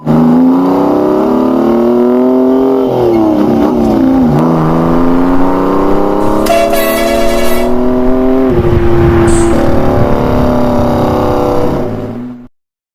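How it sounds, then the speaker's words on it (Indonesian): Animated buses accelerate to overtake one another, loud engine tones rising in pitch through several gear-like steps and whirring, sustained throughout before cutting off abruptly at the end, with no voices. "antara bis satu dengan yang lain saling menambah kecepatan untuk saling salib-menyalip"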